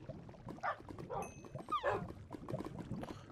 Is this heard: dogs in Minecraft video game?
yes